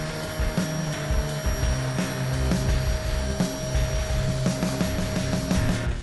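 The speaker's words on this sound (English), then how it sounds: "Once you've got your pump attached, it is as easy as hitting power and off we go." Ride Engine Air Box electric pump inflating a 6-meter kite, a steady loud motor whine and hum running throughout with faint repeated clicks, no voices.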